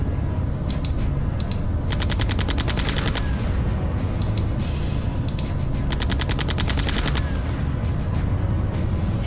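Rapid bursts of gunfire from the video game Septerra Core crackle in several quick, evenly spaced volleys with short gaps between them, loud and close over a constant background rumble.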